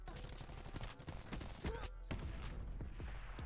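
Shotgun blasts in a video game firefight, several sharp booms mixed into steady background gunfire and game noise, with a voice talking over them.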